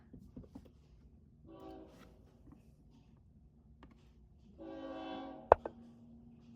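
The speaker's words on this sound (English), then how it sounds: "That's a train." A distant train passes, with two faint horn-like blasts, the second longer, against a quiet rumbling background and a couple of sharp clicks nearby.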